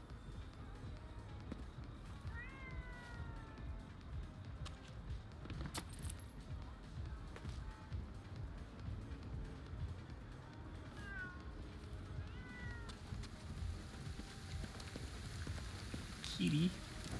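A cat meows a few faint times amid steady rain pattering on a surface, with scattered small clinks and taps nearby and a brief louder cry near the end.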